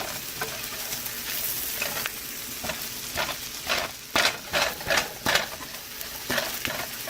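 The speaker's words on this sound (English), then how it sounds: "I'm just using the back of my spoon to break it up" Clumpy amchur being pressed and broken up with the back of a spoon in frying oil for Indian spiced potatoes, a steady sizzle with repeated scraping, tapping strokes of the spoon against the pan.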